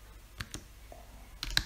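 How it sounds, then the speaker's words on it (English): Computer keyboard typing while entering setup commands into Betaflight software: a few sparse, quiet key clicks, then a quick cluster of clicks near the end, close-miked with no talk. "my typing's not very fast"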